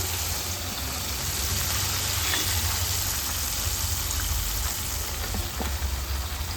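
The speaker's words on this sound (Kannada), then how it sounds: "ಇದೇ ಥರ ಎಲ್ಲ ವಿಂಗ್ಸನ್ನು ಫ್ರೈ ಮಾಡ್ಕೊಳ್ಬೇಕು." Chicken wings frying in hot oil give a steady, dense sizzle and crackle that fills the whole stretch evenly, close and moderately loud, with no voices.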